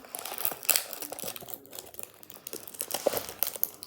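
A crinkly wrapper on a pack of trading cards is torn and opened, giving close, bursty crackling and rustling in quick irregular clusters, with no one talking.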